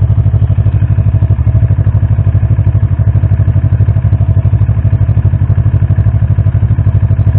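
A motorcycle sits idling at a stoplight in first gear rather than neutral. Its loud, steady, lumpy engine pulse runs close and unbroken, with no talking.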